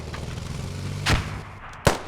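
A shooting video game produces two loud, sharp gunshot blasts about three quarters of a second apart over a low, steady rumble.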